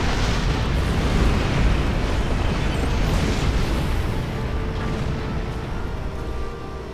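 Ship weapons fire and explosions from a battleship fight in Star Trek Online, a dense, continuous roar of booming blasts that stays loud and unbroken throughout, with no voices.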